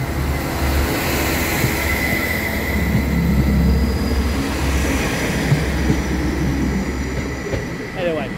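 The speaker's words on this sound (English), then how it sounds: "this train comes to a complete stop" A tram pulls into Salford Crescent station and slows to a halt, a steady rumble of wheels and motors with faint squeals, loud and close throughout.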